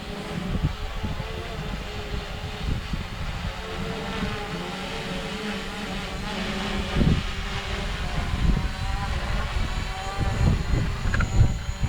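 A Hubsan Zino drone descends to land by a lake, a steady mechanical whir with a faint droning tone, growing slightly louder and closer near the end, with gusts and rumble underneath.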